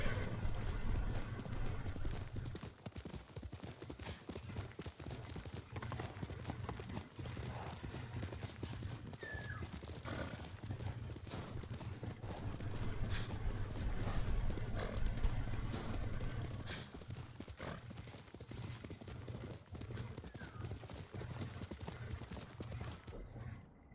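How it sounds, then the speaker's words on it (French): A horse in the Ghost of Tsushima video game trots with a steady, close clip-clop of hooves, broken by an occasional neigh over a constant background ambience. "Tu es un bon cheval, Sora."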